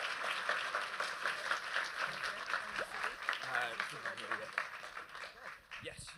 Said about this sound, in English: I want you to give her an incredible round of applause for having the courage to say yes